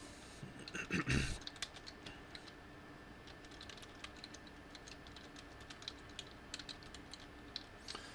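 Light, quick typing on a computer keyboard, a steady patter of soft clicks at close range, after a brief louder knock near the start.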